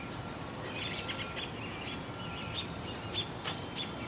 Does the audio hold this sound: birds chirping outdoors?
yes